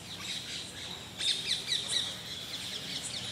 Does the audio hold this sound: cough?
no